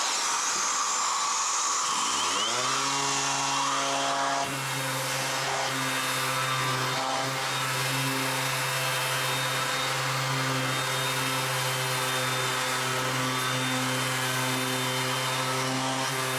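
A Parkside 20V battery shop vac, running with its bag removed and hooked to a sander through an adapter, whirs up from silence and settles into a loud, steady motor drone with a high-pitched airflow whine.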